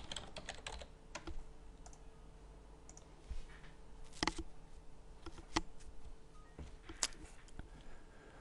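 Quiet, irregular clicks and taps come from a computer keyboard as a new file name is typed, a few sharper keystrokes standing out in a hushed room.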